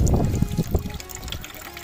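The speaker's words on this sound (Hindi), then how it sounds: "देखिए, पानी गिरने निकला है।" Water falling from a pump-fed pipe inside a homemade air cooler, a close, rushing trickle and splash that is strongest at first and then continues more softly.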